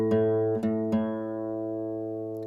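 Two guitar strings ringing together during match tuning, with three brief plucks early on, then the notes sustain steadily and slowly decay, alone and fairly clear.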